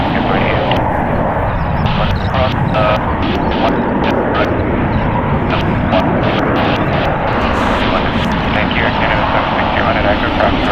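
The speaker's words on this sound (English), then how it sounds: "It's a 5-hour and 30-minute flight on a Boeing 737 MAX 8, 4 years old." A Boeing 737 MAX 8 airliner arriving at San Francisco International Airport makes a loud, steady engine roar that fills the whole stretch without letting up, with faint voice-like sounds mixed in.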